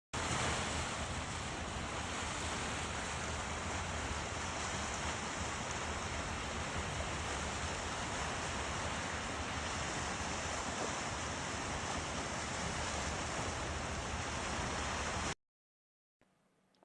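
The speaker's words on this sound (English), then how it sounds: "sound of the waves" Ocean waves break and wash continuously at sunrise, a dense steady roar of surf with wind buffeting the microphone, close and loud throughout before cutting off near the end, with no talking.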